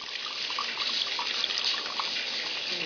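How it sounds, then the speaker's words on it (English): Two cups of extremely hot water poured from a measuring cup into a bowl to make a dye bath for sheepskin boots, a steady close splashing rush of liquid with no talking. "you will fill 2 cups of extremely hot water and pour it into the bowl"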